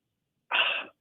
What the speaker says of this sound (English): It was a cough.